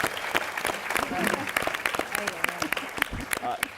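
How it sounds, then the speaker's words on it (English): Audience applause at a film Q&A session, scattered and uneven claps rising and dipping in bursts while voices talk through them. "let's have a round of applause for Nora Garrett's first script."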